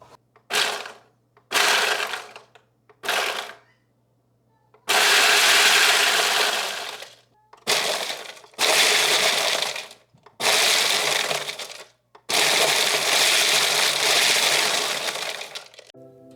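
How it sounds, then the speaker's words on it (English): A Ninja BL770 food processor crushes ice cubes in loud, harsh grinding bursts, first three short pulses and then several longer runs separated by brief silences. "the food processor was able to chop up the ice"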